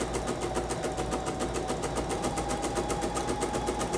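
A sewing machine runs steadily, taking a fast, even run of stitches on an heirloom lace band made with French machine sewing, its needle ticking in a continuous rhythm close by with no talk.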